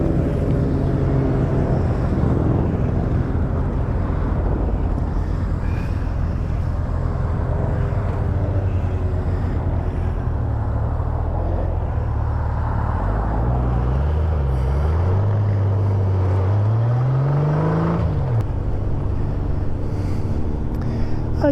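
A pack of motorcycles, trikes and a sidecar unit on a toy run along the Napier waterfront roar past continuously, engines droning loudly with wind buffeting the microphone and one bike's revs rising and falling near the end.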